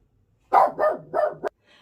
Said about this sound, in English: and then Buddy started barking, and he's under my desk here